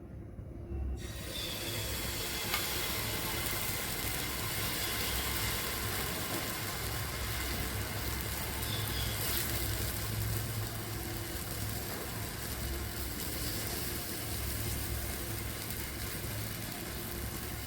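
Uttapam batter of curd and semolina is poured into hot oil, and a steady, loud sizzling hiss starts about a second in and runs unbroken to the end.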